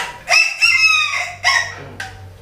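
A chicken-shaped toy piggy bank lets out a loud electronic rooster crow, several bright, stretched cock-a-doodle-doo calls in quick sequence over a faint low hum.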